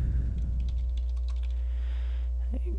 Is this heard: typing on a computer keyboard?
yes